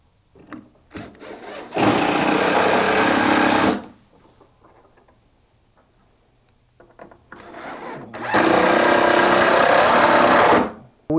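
Power driver sinking screws into a wooden entertainment center, two long loud bursts separated by quieter handling noises, close by and with no talk.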